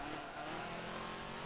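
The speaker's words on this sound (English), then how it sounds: "Why does your car sound so different to mine?" A Porsche race car engine in the Forza 7 racing game during a Le Mans race, a steady droning engine tone held throughout the short burst.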